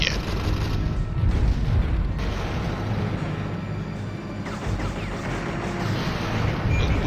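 Cannon fire and explosions from the mech combat game Ring of Red, a steady heavy rumble with booming blasts throughout, loud and dense, no talking.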